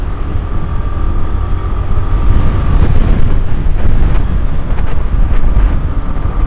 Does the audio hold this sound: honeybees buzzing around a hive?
no